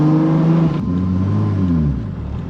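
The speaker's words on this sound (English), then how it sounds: "Oh, dude, and it takes off so much smoother" A Toyota Supra pulling away smoothly from a stop with light throttle, a loud close engine drone that steps down in pitch after a gear change and hums on evenly, no talk.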